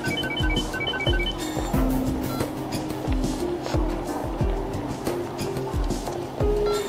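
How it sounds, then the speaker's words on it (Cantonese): A telephone rings in quick repeated trills near the start, over a busy, rhythmic background of music and noise. "我聽個電話先。"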